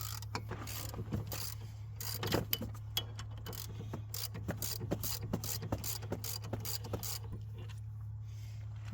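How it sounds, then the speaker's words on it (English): Large brake caliper bracket bolts are being worked loose on a SAAB 9-5 with a ratchet, producing quick runs of close mechanical clicking over a steady low hum, with no speech. "after I took out these gigantic bracket bolts for the brake caliper holder or bracket"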